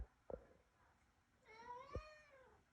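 A house cat gives a single drawn-out meow close by, quiet and wavering, with a couple of soft thumps before it and no talk.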